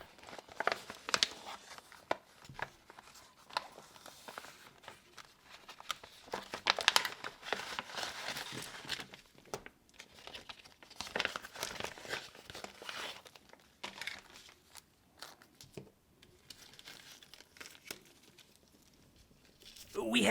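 A plastic bag holding oscilloscope passive probes crinkles and rustles as it is handled and opened up close, with irregular crackling bursts and brief pauses.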